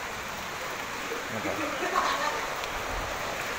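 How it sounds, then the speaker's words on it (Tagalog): Heavy rain pours down during a flood in the town centre of Las Piñas, where the water is over knee height, as a steady, dense, close hiss; someone briefly speaks over it. "Ito lalong lumalakas pa yung ulan."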